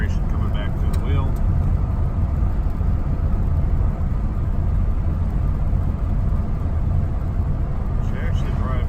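Interior of a 1941 Mercury car driving on a rough road: a loud, constant low engine and road rumble with heavy vibration, continuous throughout and close, with a voice talking over it.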